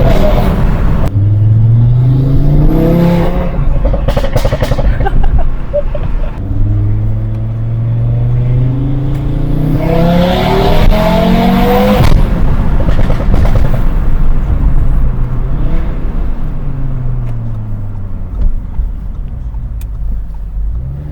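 A 500-horsepower Audi RS3 with all-wheel drive accelerates hard through several gears, its engine note rising in repeated revving sweeps broken by shifts and crackling pops, loud and close.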